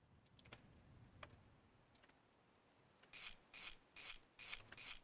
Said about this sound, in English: let's go ahead and bolt all of these down